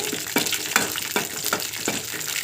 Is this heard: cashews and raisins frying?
yes